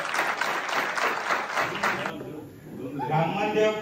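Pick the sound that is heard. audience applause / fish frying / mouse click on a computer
audience applause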